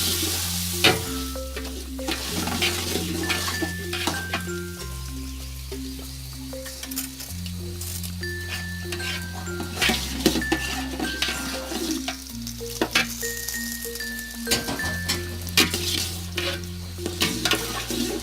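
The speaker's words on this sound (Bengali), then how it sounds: "মশলাটা ভাজা হয়ে গেছে। এখন আমি চালটা দিয়ে দেব।" Rice stirred into fried spices in a pan for vegetarian bhuna khichuri: continuous sizzling with repeated scraping and occasional utensil clinks, close up, under background music.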